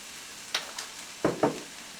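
Fried rice with soy sauce is tossed in a hot pan: a soft, steady sizzle with a few quick scraping strokes of the utensil.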